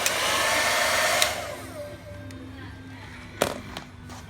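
A hair dryer set to low speed and medium heat blows a steady, loud rush of air that eases down to a quieter hum after a second, with a few sharp clicks and knocks later.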